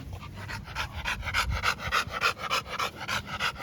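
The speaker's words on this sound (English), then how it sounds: "Look, they out here running, they getting their exercise on" Puppies pant rapidly and rhythmically while running, the quick breaths close and fairly quiet, with no other sounds.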